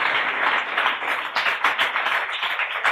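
An audience claps at a talent show event, a dense steady round of applause heard up close that continues evenly throughout.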